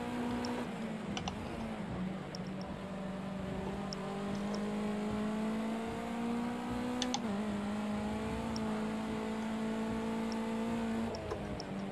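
A cold race car in Project Cars runs at Knockhill, its engine holding a steady droning note that rises and dips slightly through corners, with occasional clicks over it and no voices.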